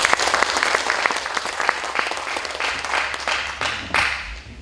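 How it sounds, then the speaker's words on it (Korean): An audience at a lecture event breaks into loud applause, many hands clapping in a dense patter that fades out near the end, with no speech. "큰 박수 부탁드립니다"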